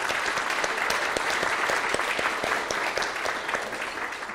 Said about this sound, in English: definitely give her a round of applause